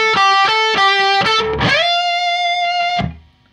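Distorted electric guitar riff, a quick run of picked notes followed by a slide into a long sustained vibrato note that rings out and stops.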